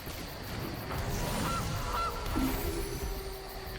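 A Goose card in MTG Arena plays a single cartoonish goose honk effect, moderately loud over quiet game background music.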